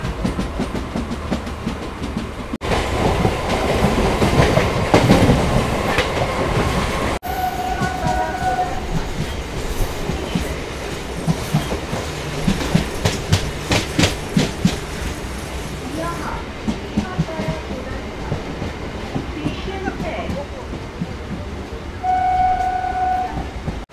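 An Eastern Railway Sealdah-division local train runs past at Birshibpur Kodalia station, a loud rumble with repeated clickety-clack of wheels over rail joints and a brief horn, while people talk nearby.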